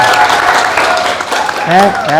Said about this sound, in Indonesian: Silakan tepuk tangan buat kita semuanya.